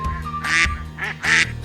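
Two loud, close duck quacks, each a short nasal burst, set against a steady low hum and a faint tone; no talking.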